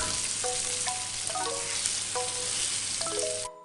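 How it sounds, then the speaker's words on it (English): Steak searing in a smoking hot pan with a touch of oil, a steady loud broadband sizzle with a few tonal clinks, cutting off abruptly near the end. "Heat up smoking hot pan with a touch of oil and place the steak inside."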